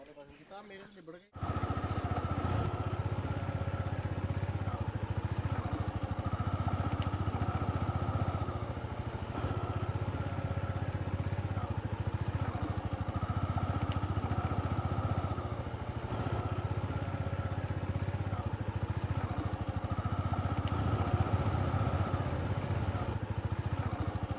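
A motorcycle engine runs steadily and close by for the whole stretch, a continuous rumbling drone with voices talking faintly underneath.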